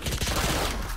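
Stinger submachine gun firing in a tactical shooter video game, a dense burst of rapid shots running through the whole second, loud and close, with no talk over it.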